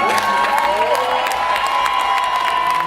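Crowd bursts into loud applause and cheering with whoops and shouts at a documentary event celebrating Aaron Johnson Day in Miami, dense clapping sustained throughout.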